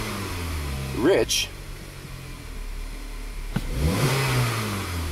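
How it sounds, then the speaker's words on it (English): A Chevrolet Impala with a lean P0171 fault and low power has its throttle stabbed, the engine briefly rising in a quick rev and then settling back near idle, with someone talking over it. "just stab the throttle"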